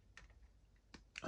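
Two or three quick, quiet clicks of plastic model kit parts being snipped from the sprue for a Dead Man's Hand Hangman's Gallows wargaming kit, spaced apart against a near-silent background.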